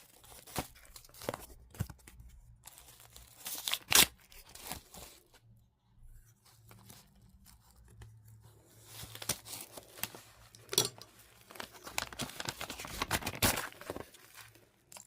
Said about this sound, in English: Let me just open the card up.